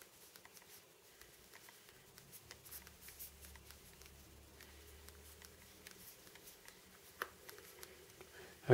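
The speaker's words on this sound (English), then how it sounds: "I'm going to try to do some thumb typing for you." Thumb typing on the physical QWERTY keyboard of a Motorola Milestone phone, a quiet run of rapid small clicks in an uneven rhythm, close and soft with no talk.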